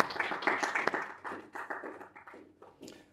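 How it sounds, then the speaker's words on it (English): Faint, scattered clapping from a small group, separate claps landing unevenly and slowing and thinning toward the end in a quiet room. "The slow claps."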